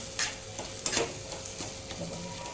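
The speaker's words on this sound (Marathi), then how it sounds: "हे सगळं परतून घ्यायचं. त्याच्यातच आपण थोडासा तळलेला कांदा घालायचा." Egg biryani masala with Malvani garam masala and fried onion is sautéed in a pan, with a soft, steady sizzle broken by several scraping stir strokes close up and no voices.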